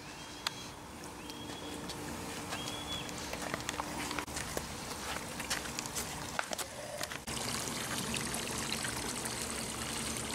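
A pool hand vacuum set to waste drains algae-laden water out of the pool rather than back through the filter, giving a steady outdoor trickling, streaming wash with scattered splashy clicks and a slight jump in level near the end.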